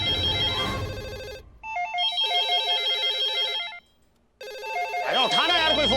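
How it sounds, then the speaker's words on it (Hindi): A telephone rings with a repeated electronic ringtone in bursts separated by short pauses, loud and close, with a voice speaking over the end. "अरे उठाना यार कोई फोन।"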